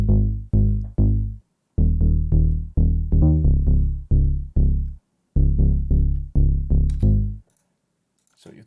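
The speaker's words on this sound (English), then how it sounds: "the bass line is really like driving the groove of the track" Deep synthesized UK garage bass line programmed in FL Studio, punchy sustained notes in a syncopated rhythmic pattern with short gaps, loud and isolated with no other instruments.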